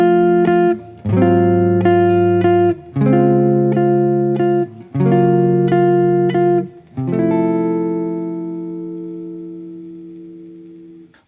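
A jazz guitar plays a chord-melody alternate ending to a song, with several ringing chords struck in turn and a final chord left to sustain and slowly fade.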